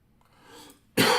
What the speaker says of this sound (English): it seems like my cough is bad, but it's all soft